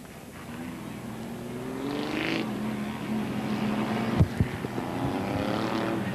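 Six-cylinder modified race cars take to the track at Holland Speedway, engines droning and rising at a distance under a public-address voice, with a couple of sharp pops near the end.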